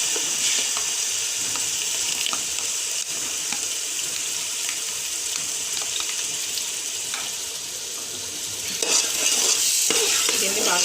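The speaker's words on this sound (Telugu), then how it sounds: "ఇప్పుడు టమాటా పేస్ట్ వేసుకోవాలి." Tomato paste frying in a pan for prawn biryani, a continuous sizzle with repeated scraping stirs, close and steady, swelling louder near the end.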